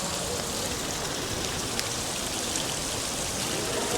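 A water fountain inside a mall in Doha, Qatar, splashes in a dense, steady rush of falling water that fills the space without pause.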